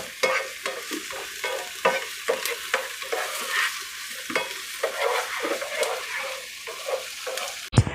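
Onions frying in a hot pan for baked spaghetti casserole, a steady close sizzle with frequent stirring scrapes and crackles throughout, no voices.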